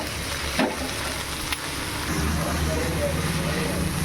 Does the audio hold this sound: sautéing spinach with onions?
yes